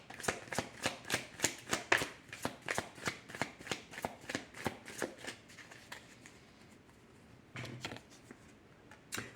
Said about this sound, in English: So let's get some cards on this.